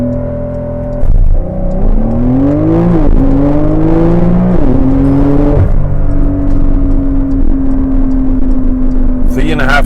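A 2020 Porsche 911 Carrera 4S Convertible accelerates at full throttle in Sport Plus with traction control off. The engine roars loudly from inside the car and climbs through rising pitch sweeps with quick gear-change dips.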